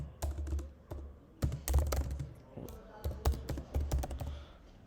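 Computer keyboard typing as a question is entered: bursts of quick, close clicks and clacks in uneven runs with short pauses, fairly loud in a quiet room.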